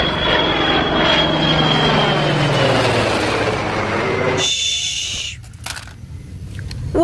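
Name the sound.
military aircraft of the Indian Air Force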